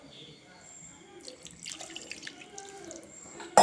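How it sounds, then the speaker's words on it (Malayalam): Water poured into pork pieces in a pan for a pork roast, a short soft splashing trickle near the mic that builds in the second half, with a faint voice in the background early on. "ഇതിലേക്ക് നമുക്ക് ഇനി കുറച്ച് വെള്ളം ഒഴിച്ച് കൊടുക്കാം കേട്ടോ"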